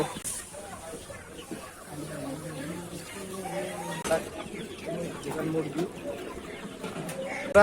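Pakistani and broiler chickens cluck at a busy town market stall, a moderate run of repeated clucks and calls mixed with crowd noise and nearby talking.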